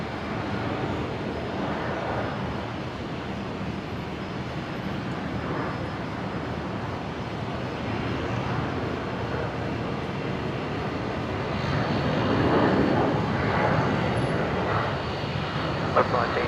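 A QantasLink airliner departing Brisbane Airport for Canberra, its engines a fairly loud, continuous roar that swells toward the end, with wind buffeting the microphone.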